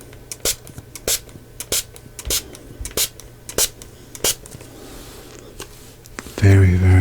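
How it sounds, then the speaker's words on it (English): A spray bottle fires several short, sharp broadband bursts in a quiet room during a relaxing cranial nerve exam, spaced about half a second apart, with a louder low hum entering at the end. "we are going to just give it a couple sprays here"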